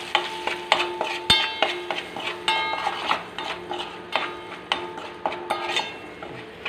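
Sambar powder and asafoetida being stirred into a pot of cooking sambar, with a steady run of soft scraping strokes and spoon clinks over a light simmering sizzle, close and moderately loud.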